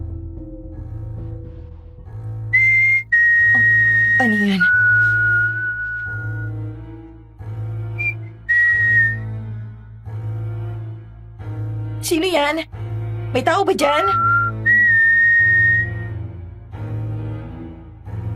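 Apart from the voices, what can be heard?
whistling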